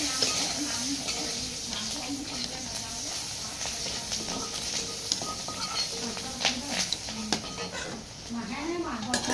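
Onions and panch phoron (five-spice) sizzle steadily in hot oil while a spoon stirs and scrapes the pan. A voice talks over the frying throughout.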